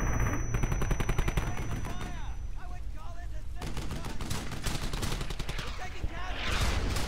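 Machine gun fire rattles in the World War II shooter Brothers in Arms: Hell's Highway, with dense rapid bursts and scattered shots filling most of the stretch and brief whistling effects mixed in.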